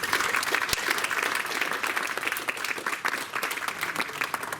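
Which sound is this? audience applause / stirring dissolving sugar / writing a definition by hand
audience applause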